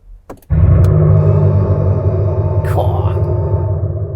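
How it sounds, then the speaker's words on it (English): A loud, deep synthetic engine drone from an Abarth 500e electric car rumbles steadily through interior and exterior speakers and a large subwoofer, starting abruptly after a brief sound and holding a sustained low hum. "we get fake engine noise playing out through the speakers in both the interior and the exterior"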